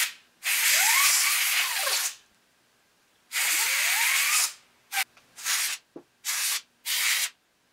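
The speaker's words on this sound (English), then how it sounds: "And we're going to spray right in the fan to try and help clean things out." Compressed air from a duster hisses into a laptop fan in loud, sustained bursts, two long blasts followed by several short quick sprays, with a faint rising whine from the spinning fan between.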